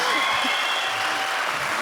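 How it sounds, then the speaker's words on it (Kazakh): A young audience at a stand-up comedy concert in Oral applauding without pause, a dense, steady wash of clapping that fills the room, with brief voices under it. "Что-то мына қара қазір біздің Оралдың жастары тоқтамай шапалақ ұрады қазір."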